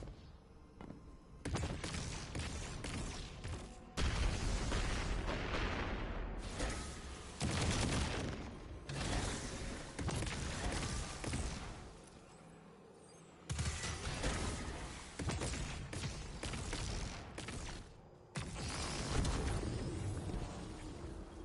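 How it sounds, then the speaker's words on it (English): Destiny 2 campaign cannon supercharging and firing, loud bursts of booming blasts and crackling gunfire-like impacts in several separated volleys with brief quieter gaps, no voices over them. "it's supercharging the cannon."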